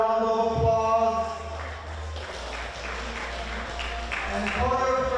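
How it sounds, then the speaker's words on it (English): Applause from the audience at a table tennis match during the Pan American Cup quarterfinals, a steady soft patter of many hands underneath an announcer talking, with hum and music tones in the hall. "So let's give them a round of applause."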